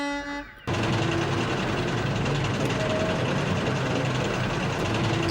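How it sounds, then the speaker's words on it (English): A loud, steady steam engine horn blares almost continuously after a brief quieter start, sustained and close, with rumbling engine noise beneath it. "he heard an unfamiliar horn"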